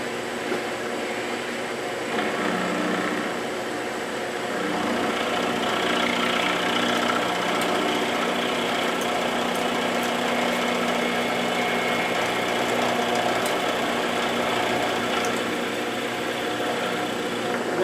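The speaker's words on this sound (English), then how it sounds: "We're going to go ahead and flatten this piece out, and then we'll chuck it up on the forge on the lathe and get to work." A Hamilton 6-inch metal lathe running at about 800 RPM takes a facing cut on a half-nut workpiece, giving a steady mechanical hum and whine with faint scraping, continuous throughout.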